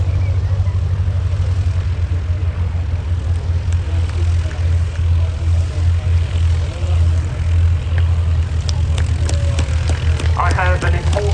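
A de Havilland Canada Chipmunk propeller aircraft flies at an RAF Cosford airshow, its steady low engine drone continuous and moderately loud, with faint crowd and background noise around it.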